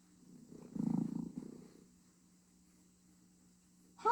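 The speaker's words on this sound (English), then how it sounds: "The sound of the air going in and out is what we hear as a purr." A cat purring, a soft low rumbling swell that rises and fades over about a second, then trails off into quiet with a faint steady hum underneath.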